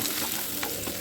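Chopped onions frying in oil and butter for dhaba-style matar paneer, a dense close sizzle throughout with brief scraping swells as they are stirred.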